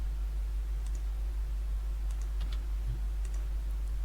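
Computer mouse clicks and keyboard taps while working in SketchUp 3D modelling software: sparse, faint, scattered clicks over a loud, steady low electrical hum, with no talking.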